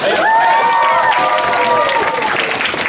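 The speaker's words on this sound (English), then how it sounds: "Give the graduates a round of applause." A graduation audience applauds the graduates at a martial arts center ceremony, a dense, steady wash of clapping throughout, with voices carrying over it.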